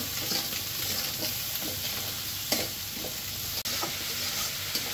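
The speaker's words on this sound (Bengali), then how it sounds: "ভালোভাবে কষিয়ে নেব।" Turmeric, chili and coriander powders fry in a pan with steady sizzling while a spoon scrapes and stirs in repeated strokes, close and fairly loud, with a couple of sharp knocks against the pan.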